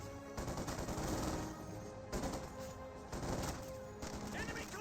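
Infantry gunfire in the strategy game Company of Heroes 2: dense, continuous bursts of rifle and machine-gun fire in waves, loud and steady, with a faint commentator voice under the battle noise.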